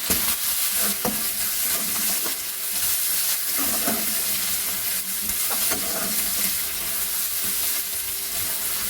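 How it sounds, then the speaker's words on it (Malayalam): Sliced onions with a pinch of salt sizzle and fry steadily in hot oil in a pan, with intermittent stirring scrapes over a continuous close hiss and no talking. "അപ്പോൾ നമുക്കിതിലേക്ക് സവോള അരിഞ്ഞ് വെച്ചിരിക്കുന്നത് ചേർത്ത് കൊടുക്കാം."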